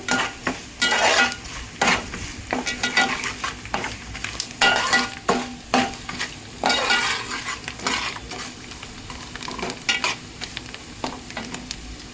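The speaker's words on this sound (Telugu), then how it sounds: "పసుపు వేసిన తర్వాత పసుపు వేగాలి ఒక నిమిషం పాటు." Turmeric fries in hot oil as a spatula stirs and scrapes the pan, making a continuous sizzle broken by repeated metallic clinks and scrapes, close by and without speech.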